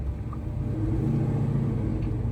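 A Calypso Fox car drives past with a steady low engine rumble and road noise, heard close and continuous with no talk over it.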